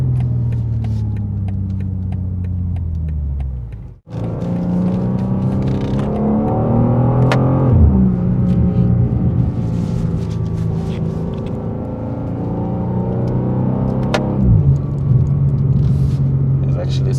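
A 2024 BMW M2 engine drones loudly from inside the cabin while driving, its pitch rising with revs, dropping briefly at a gear change, then pulling again with steady rumble.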